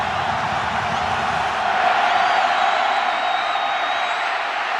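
A dense, roaring crowd cheers continuously at a college football game between Oklahoma and Kansas, loud and sustained near the student section during a third-and-goal play.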